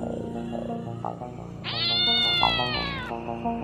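A cat inside a room meows repeatedly, with short calls followed by a long, loud, drawn-out wailing meow, close and clear over a faint background hum.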